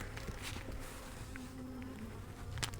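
Honeybees hum at an opened beehive, a steady, soft buzzing swarm close by, with individual bees droning past now and then.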